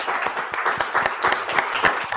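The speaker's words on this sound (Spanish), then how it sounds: "Un aplauso para Alfredo." Applause for Alfredo Urdaci after an interview, a small group clapping in a quick uneven patter, near and moderately loud.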